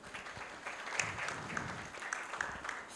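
An audience at an intellectual property conference applauds, a soft, steady patter of clapping that sounds a little distant and keeps going throughout.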